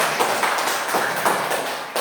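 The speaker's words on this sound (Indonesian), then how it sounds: "kasih tepuk tangan kelompok 1" Classroom students clapping for a school group, a short burst of many hands applauding at moderate loudness in a room, fading out near the end.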